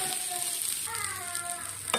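Drumstick leaves with grated coconut and egg being stir-fried in a pan, a steady bright sizzle with rapid scraping strokes throughout the short stretch, close and fairly loud.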